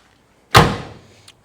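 A single heavy door of a 1972 Chevrolet Chevelle slams shut, a solid thud that rings out briefly, followed by a faint click.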